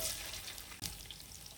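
Onions frying in oil for a biryani; a soft, steady sizzle with a fine crackle carries throughout, briefly dipping for a moment midway before resuming at the same low level, with no talking.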